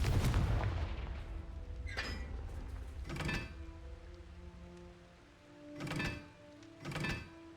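Confringo fire spell blasts in Hogwarts Legacy, several sharp explosive bursts with crackling tails spaced a second or two apart over a low rumbling game soundscape, no talking.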